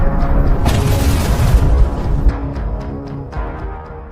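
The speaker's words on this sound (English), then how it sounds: "Explosions echoed across the countryside for kilometers, shaking nearby villages" Heavy explosions during frontline fighting in Ukraine, a loud, deep rolling boom rumbling for over a second, then fading into a long echoing tail with scattered smaller thuds.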